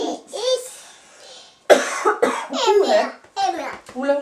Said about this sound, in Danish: hun kom lige til at hoste